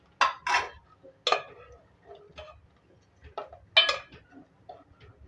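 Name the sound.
stirring custard seviyan in a pan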